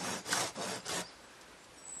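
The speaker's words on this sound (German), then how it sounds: "So, jetzt werden wir mal testen, wie das Ganze hier sägt." A Silky Gomboy folding saw cutting dry pole wood outdoors, four quick rasping strokes close up over the first second, followed by quiet with faint background noise and no talk.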